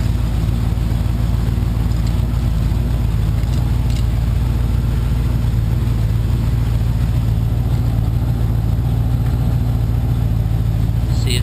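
A Honda motorcycle engine runs steadily after a cold start, its loud, continuous low idle rumble filling the whole stretch as a voice speaks faintly underneath.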